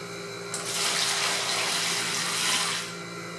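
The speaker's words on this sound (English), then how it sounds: "What I'm going to do now is pour the sanitizing solution" Star San sanitizing solution is poured into a tray, giving a loud, close, steady splashing rush that starts abruptly, runs about two seconds and tapers off, with no talk.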